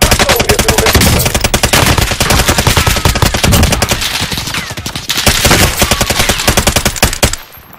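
Loud, close automatic gunfire rattles in rapid continuous bursts in Call of Duty: Warzone, a dense stream of shots that runs almost without pause before cutting off abruptly at the end.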